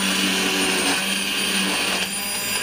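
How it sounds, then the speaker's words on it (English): A blixer purees tomatoes into a sauce for a turkey roulade, running as a steady, loud high-pitched whir with no pauses. "So we're going to take our blixer, just blend it"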